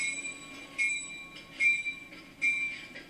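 A Thomas the Tank Engine toy train plays its train sounds, with repeated brief whistle-like tones and rattling bursts, fairly faint and steady.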